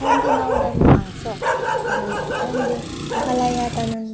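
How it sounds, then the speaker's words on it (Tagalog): A dog barks sharply near a house on a street, a few yips and barks breaking through steady talk, with one loud close bark standing out. "bigla akong nagulat dahil bigla akong tinawagan ng aso"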